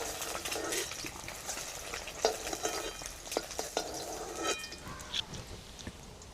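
Eggs frying lightly in hot oil, a close steady sizzle broken by a few scraping stir strokes and small pops, with no talk.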